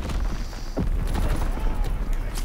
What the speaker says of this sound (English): Too many grenades.